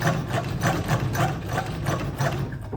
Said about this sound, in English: I was given this Franklin sewing machine, a 1926 model.